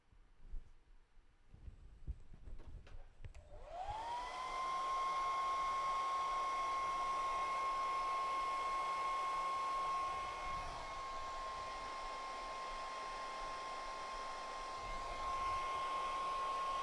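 A hair dryer blows on a wet watercolor painting, starting up after a few soft clicks and then running as a steady, loud, close whine with a constant tone for the rest of the clip.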